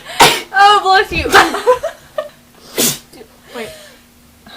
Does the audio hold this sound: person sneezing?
yes